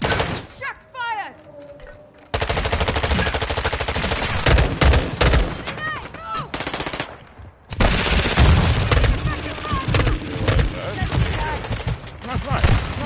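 Sustained automatic gunfire in the video game Modern Warfare 2 rattles on in long, loud bursts, broken by a short lull, with a player's voice briefly audible at the start.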